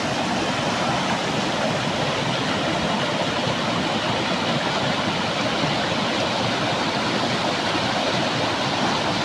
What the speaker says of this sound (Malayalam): അതാണ് ഒന്നാമത്തെ വെള്ളച്ചാട്ടം